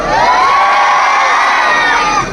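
A loud crowd at a live concert cheers and screams continuously, with high excited shrieks and whoops from many voices close by.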